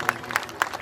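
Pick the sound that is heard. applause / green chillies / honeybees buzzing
applause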